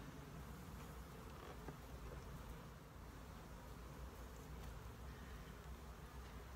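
Honey bees swarm around during a honey harvest, a faint, continuous, even buzz that stays steady throughout, with no voices.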